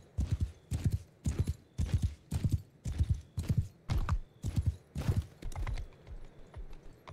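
Horse hooves clip-clop in Mount & Blade 2: Bannerlord, a steady run of about eleven evenly spaced, fairly loud hoof thuds that ease off slightly toward the end, with no talking.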